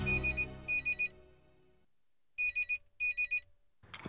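Telephone ringing with an electronic ringtone, two bursts of rapid trilling rings, then a pause and two more bursts, clear and close with no talking.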